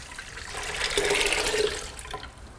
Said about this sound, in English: we'll go ahead and take our water right here and fill it up into the bucket